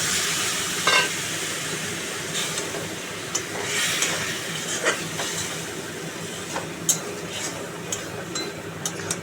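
Jackfruit curry sizzles in a pan with a broad, steady hiss as boiled water is added, and utensils scrape and clink against it now and then.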